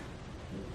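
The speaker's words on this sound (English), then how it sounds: "It's also raining" Steady rain falls outdoors, a soft continuous patter with a low rumble beneath it, heard faintly in the background of a quiet home studio with no talking.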